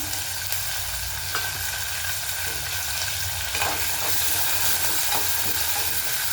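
Curry leaves, onion and green chillies fry in hot oil in a pan for rice rava upma. A loud continuous sizzle runs throughout, with occasional stirring knocks and no voices.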